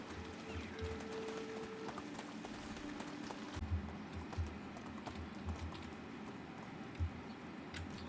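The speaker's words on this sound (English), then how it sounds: "Let's go, horse." Horse galloping across a map in the medieval video game Medieval Dynasty, a steady rhythmic clip-clop of hooves at moderate distance over low ambient game music, with no talk.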